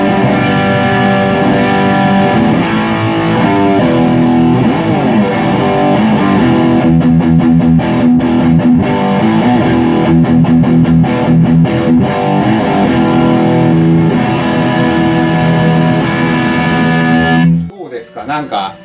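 A Gibson Les Paul Tak Matsumoto Canary Yellow guitar plays through the heavily distorted OD2 channel of a Marshall Valvestate 8080 amp, with sustained chords and lead lines for about seventeen seconds before stopping abruptly.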